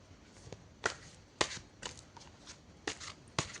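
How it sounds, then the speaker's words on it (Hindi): Tarot cards are shuffled by hand in a series of short, crisp riffling bursts spaced about half a second apart, close and fairly quiet with no talking. "तो हम जेमिनाई के लिए कार्ड शफल कर लेते हैं।"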